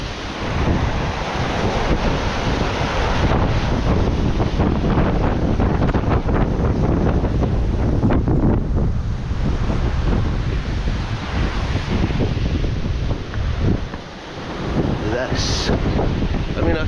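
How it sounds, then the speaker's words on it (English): Loud, continuous rushing water at St Monans with heavy broadband roar and wind buffeting the microphone throughout, close and steady. "Look at this, fast flowing water."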